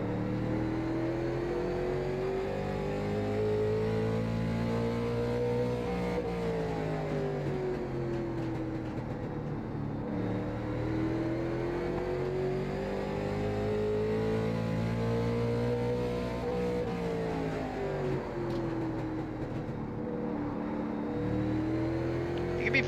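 A late model race car engine lapping Martinsville in iRacing, loud and continuous, its pitch sweeping up on the straights and dropping into the corners in a repeating pattern, with no talk over it.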